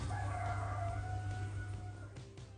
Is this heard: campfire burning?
no